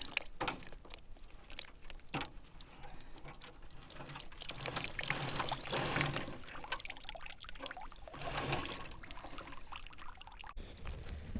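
Water pours and trickles steadily through a gold pan as gravel is washed out at a gold camp in Alabama, a continuous splashing wash with swirling surges, fairly close and moderately loud, with no talk.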